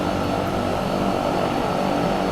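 Twin propeller engines of the Dreamfoil Embraer EMB110 in a flight simulator, a steady, dense droning roar with constant buzzing hum, loud and close, no pauses or voices.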